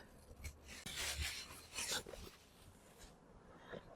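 Nylon bag holding shoes being opened, with close, soft rustling and crinkling in short bursts that fade to quieter handling.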